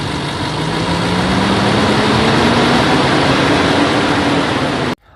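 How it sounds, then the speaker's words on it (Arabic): A warmed-up 2012 Range Rover engine with a suspected timing chain fault, revved gently to about 1500 rpm: a loud, steady close-up drone whose pitch slowly climbs, then cuts off abruptly just before the end. "اليوم عندي رانج روفر موديل 2012 فيه صوت بجنزير التايمينج."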